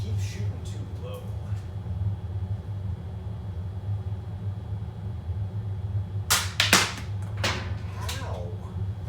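A Nerf Trailblazer RD-8 foam dart blaster fires, giving a few sharp, close snaps and whooshes near the end, with quieter handling noises earlier over a low steady rumble.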